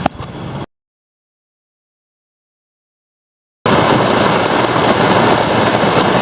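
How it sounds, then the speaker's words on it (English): Heavy rain pounds on the roof of an RV, a dense, loud, steady roar that cuts in abruptly after a brief opening burst and a few seconds of total silence, then continues unbroken. "Can you hear that pounding? We made it home right before the rain started."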